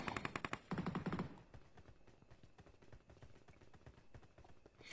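Rapid gunfire from a PUBG Mobile battle, opening with a loud dense burst of automatic shots, then continuing as quieter scattered shots and game sounds through the rest of the fight.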